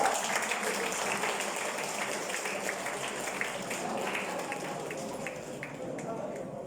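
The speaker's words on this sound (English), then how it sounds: "Give a round of applause." Students in a classroom give a round of applause during a lesson on business models, a faint, somewhat thin patter of clapping that carries on for several seconds, recorded from a distance with low room noise.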